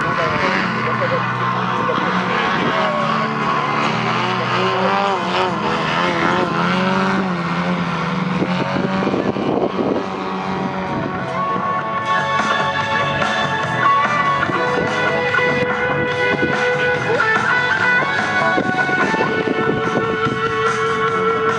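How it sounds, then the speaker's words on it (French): Aerobatic propeller plane at the Macon 2014 air meeting skimming the runway at under a meter, its engine droning loudly and continuously beneath energetic French commentary over a public address. "l'avion est suspendu à son hélice, l'avion est à moins d'1 mètre d'altitude"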